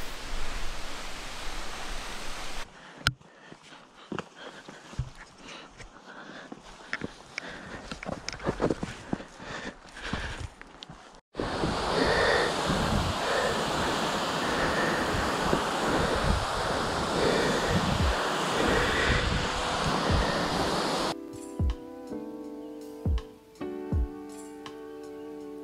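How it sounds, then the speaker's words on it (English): Roaring white-water noise from Fossá, the tallest waterfall in the Faroe Islands, loud and continuous, with wind buffeting the microphone and abrupt cuts between shots, ending in a quieter stretch with faint tonal sounds. "Fossá is actually the biggest waterfall in the Faroe Islands at 450 feet."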